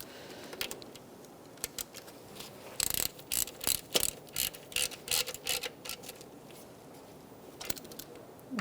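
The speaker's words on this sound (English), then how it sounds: "Let's put our bolt back for our bracket that's on the alternator. And we're going to snug all of those up." Ratchet clicking in short rapid bursts as bolts on the alternator bracket of a 2002-2006 Toyota Camry are snugged up, close and sharp, with pauses between runs and no talking.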